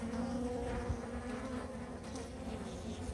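Bees of a newly settled swarm buzzing inside an open hive, a steady, close, dense hum of many insects with faint wingbeat flickers and no voices.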